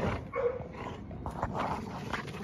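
A dog plays with a ball, giving short whimpers and soft yips amid scuffling, close by and moderately quiet, with no clear talk.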